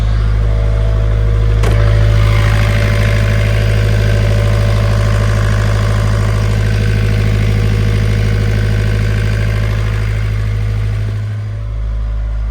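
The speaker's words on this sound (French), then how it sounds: "chaque navigation, un petit check du moteur" A boat engine idles steadily and close, a constant low rumble with a faint mechanical rattle; the tone dips briefly near the end before settling again.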